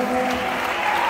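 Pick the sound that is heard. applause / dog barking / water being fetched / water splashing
applause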